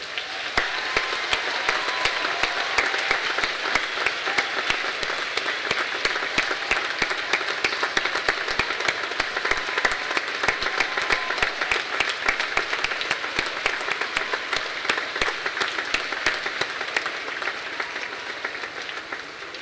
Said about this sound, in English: acknowledge this support with another hearty round of applause